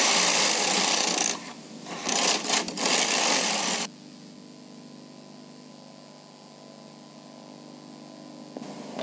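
A Bond Classic knitting machine knitting rows: the carriage makes a loud, harsh whirring rasp for a few seconds with brief pauses, then stops and leaves a quiet hum.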